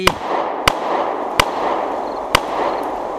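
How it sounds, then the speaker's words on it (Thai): Four sharp, loud bangs ring out one after another at uneven intervals over a steady background hum. "บัดดลนั่นเองก็มีเสียงปืนดังขึ้นสี่นัดซ้อนๆ"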